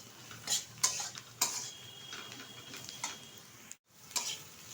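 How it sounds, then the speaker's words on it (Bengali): A spoon stirs mutton with dry spices and salt in a pot, giving a series of irregular metallic scrapes and clinks against the pot over a faint sizzle, close by and alone. "ভালোভাবে কিন্তু এবার একটু নেড়ে চেড়ে নেব বেশ কিছুক্ষণ"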